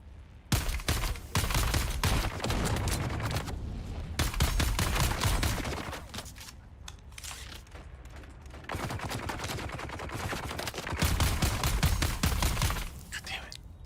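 Sustained bursts of automatic gunfire in the video game Dune: Awakening, heavy and near, firing in long runs with short pauses, while a player's voice is faintly heard among the shots.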